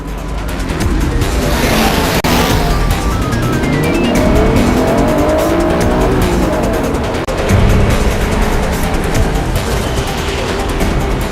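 Race cars roar loudly and continuously, with engines droning and shifting in pitch as they pass, tires squealing in places and a brief surge near the end, all close and dominant with no talk.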